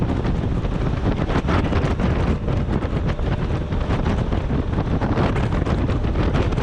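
Loud, constant roaring buffet of a 30-mph crosswind over the microphone while riding a Honda Africa Twin motorcycle on the street, dense rumbling noise throughout with no speech.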